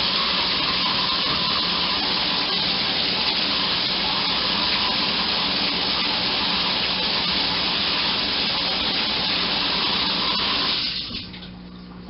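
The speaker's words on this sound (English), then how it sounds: "Now that I'm sure there's warm water coming out of the faucet" Warm water runs from a bathtub faucet into the tub in a steady, close, full gush that holds evenly for about eleven seconds before easing off at the end.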